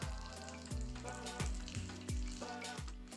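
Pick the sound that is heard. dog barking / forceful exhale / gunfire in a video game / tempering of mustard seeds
tempering of mustard seeds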